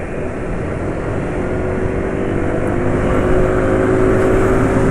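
A scooter engine runs steadily after an oil change with Petrona Sprinta 15W50, giving a continuous, loud, even drone close by with a slight rise in pitch toward the end and no talking.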